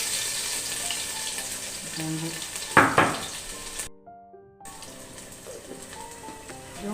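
Crushed garlic and ginger frying in oil for a chicken curry and ghee rice, a steady broadband sizzle with a sharper burst of crackle midway, then a brief dropout before the sizzle resumes.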